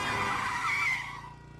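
A car pulls away with a loud tyre screech that holds steady, then fades over the last half second, with no voices.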